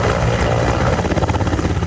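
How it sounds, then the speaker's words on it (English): A military helicopter flies overhead carrying wounded people, its rotor chop loud and steady with a rhythmic thumping pulse throughout, no voices heard. "Military helicopters are being used to transport some of the wounded,"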